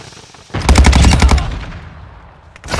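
A Call of Duty machine gun rips out one loud, rapid automatic burst lasting about a second, followed by a lingering tail and faint background game noise.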